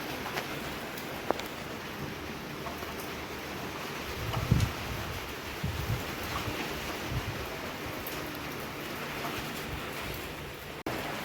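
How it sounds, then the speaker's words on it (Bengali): Steady rain falls outside near a stairwell, a soft continuous hiss with a few louder knocks and patters around the middle, close and moderate in level with no talking. "দেখো বন্ধুরা, বৃষ্টি হচ্ছে"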